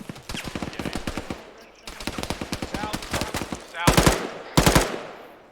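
Bursts of machine gun fire from a military video game, rapid rhythmic volleys running through most of the moment, then two louder bursts near the end, with a voice speaking briefly over the shooting.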